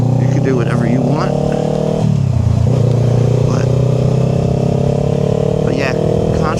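A motorcycle ridden by a new rider on a permit revs up, then the engine note sags downward as the throttle is released and the engine brakes. The pitch drop is clearly audible, and someone talks over the engine.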